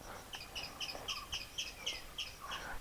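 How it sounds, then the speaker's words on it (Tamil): Small birds, sparrows, chirp outdoors at midday in a steady run of short, bright calls, about a dozen in under three seconds, faint and somewhat distant over quiet background noise. "அந்த சைடு என்னமோ ஒரு குருவி கத்துது"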